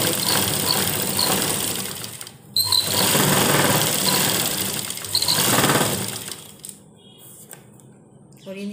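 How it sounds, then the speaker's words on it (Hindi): A sewing machine stitches a palazzo in loud, whirring runs of rapid stitching, broken by a short pause and fading to near quiet toward the end. "तो चलिए हम अब इसकी स्टिचिंग करते हैं।"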